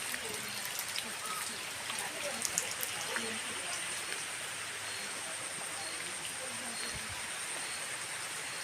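Steady rain falls around a house among banana plants in Malita, Davao Occidental, a continuous fine hiss with faint scattered drops and some distant background sound.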